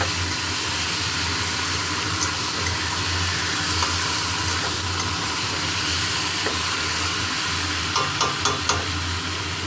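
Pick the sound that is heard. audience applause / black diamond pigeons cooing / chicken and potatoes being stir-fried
chicken and potatoes being stir-fried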